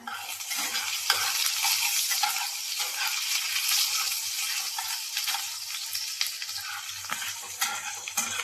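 Chopped ginger and garlic frying in hot oil, a steady hissing sizzle with scraping stirs and clinks of a spatula against the pan, close and continuous, no talking.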